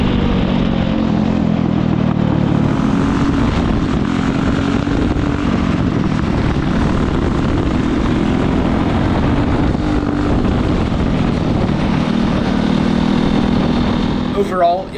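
Retired oval go kart engine racing around a road course, a loud, sustained buzzing drone with wind noise that barely changes pitch, and a voice speaking over it near the end.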